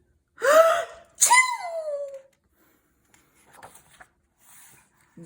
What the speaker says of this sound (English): Pigs make me sneeze.